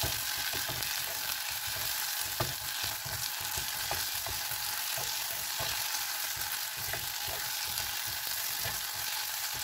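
Softened onions and tomato paste stirred in a hot pan, a steady broadband sizzle running throughout with soft, irregular scraping strokes of the spoon mixing close by; no talking.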